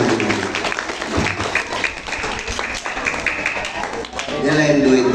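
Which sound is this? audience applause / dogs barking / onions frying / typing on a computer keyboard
audience applause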